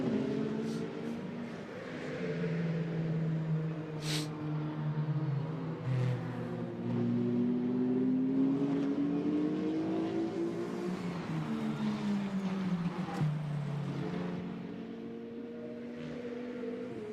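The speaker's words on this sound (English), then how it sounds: "So out of turn 14 comes Jörg Wiebahn, makes the run up towards the line" Engine of a GT2 race car on a qualifying lap at the Barcelona circuit, a steady loud drone with shifting pitch as it runs up toward the line, continuous throughout.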